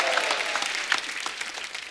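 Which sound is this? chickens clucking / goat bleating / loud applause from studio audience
loud applause from studio audience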